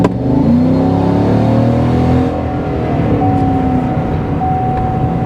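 A 2019 GM truck or SUV with a new aftermarket intake, such as a Sierra or Silverado, rolls at around 40 mph and then accelerates, its engine rising loudly in pitch from inside the cab.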